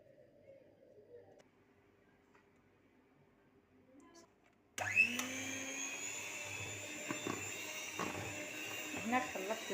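Butter, icing sugar, caster sugar and cornstarch whipped for sablé cookies with an electric mixer: a loud, steady motor whine starts abruptly midway, with faint handling sounds in the quieter stretch beforehand.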